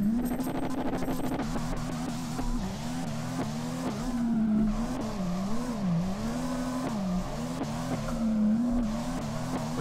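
In the DRIFT21 game at the Ebisu circuit, a car engine holds a sustained whine that wavers and swoops in pitch as the car drifts through a slide, with continuous tyre hiss beneath it and no talk.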